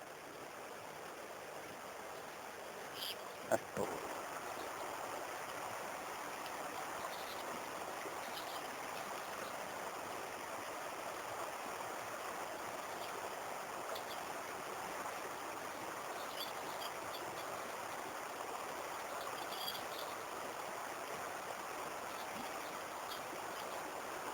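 The Belička river flows through a small canyon with a steady, even rush of moving water, moderately loud and continuous, with a brief knock near the start.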